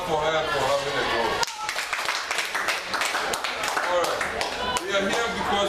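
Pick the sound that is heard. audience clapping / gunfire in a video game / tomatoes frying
audience clapping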